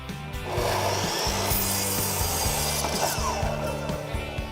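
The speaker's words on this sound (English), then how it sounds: "So traditionally, you plunge the saw and you'll just drive forward." A plunge saw cuts through barnwood, its blade tearing out the grain in a steady loud whine and rasp with a low motor hum underneath, running continuously close up.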